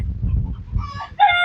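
A rooster crows loudly at the end after a moment of low rustling and wind-like rumble on a windy farm; the crow is brief and close.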